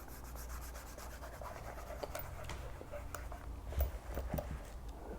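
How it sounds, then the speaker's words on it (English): A cloth rubbing wax onto a leather shoe in steady back-and-forth strokes, a soft continuous scratchy friction close up, with a slightly firmer scrub near the end. "apply the wax to the rest of the shoe."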